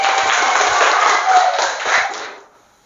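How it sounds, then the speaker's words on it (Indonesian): A classroom of pupils claps together in a dense, steady burst of applause for a couple of seconds, then it fades out quickly. "Tepuk tangan dulu."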